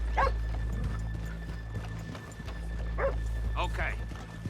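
Horse hooves clop steadily over a low constant hum in the video game Red Dead Redemption 2, with a horse whinnying and a dog barking nearby.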